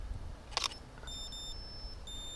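A phone camera snaps a photo outdoors while posing a kingsnake: a single quick bright shutter click, followed by thin, steady high electronic beeping tones.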